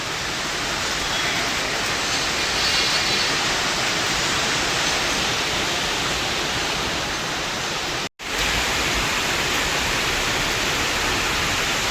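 Water runs steadily from a tap while someone washes their hands, a loud, close, unbroken rushing hiss that cuts out for an instant before resuming.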